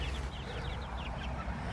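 Soft, quick clucks from chickens close by, a few chirpy notes over a low background murmur.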